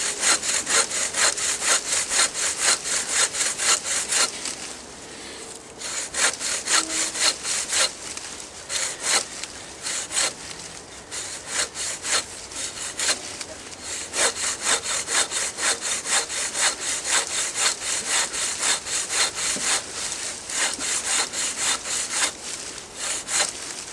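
A hand saw cuts steadily through wood in continuous rasping strokes, close and loud, with only a brief slowdown partway through and no talking.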